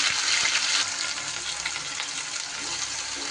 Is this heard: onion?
yes